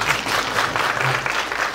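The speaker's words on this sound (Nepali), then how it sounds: "विनोदजीको लागि एउटा ताली बजाइदिनु होला" Applause from an audience after a special film screening, a steady dense patter of clapping that fills the short stretch alone, with no talk over it.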